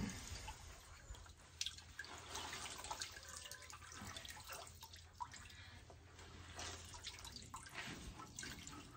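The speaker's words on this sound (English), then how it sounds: "I want to wring all of my stuff out of my can" Black-walnut dye water being wrung out of soaked camo clothing, with steady close splashing, trickling and dripping of liquid throughout, no talking.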